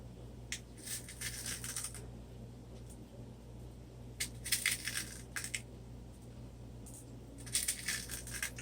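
Small glass pieces and jewels clink and rattle in short irregular bursts as they are placed onto resin on a glass surface, faint and close with no talk.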